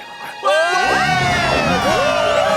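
A cartoon crowd erupts in loud, sustained cheering and whooping for Patrick, with shrill excited voices and shouts layered densely over one another.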